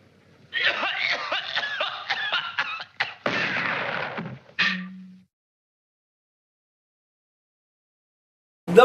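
A speaker reviewing comics talks briefly, then gives a short, sharp cough, followed by silence and another quick burst at the very end.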